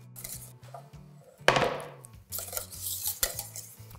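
A utensil scrapes and clinks against a metal saucepan while stirring, with a low steady hum underneath and a louder scrape midway.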